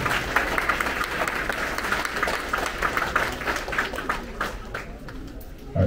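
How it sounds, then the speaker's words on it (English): Audience at an elementary school sixth-grade promotion ceremony clapping for students, a sustained burst of many hands with a few cheers, thinning toward the end. "Applause to our students for most improved."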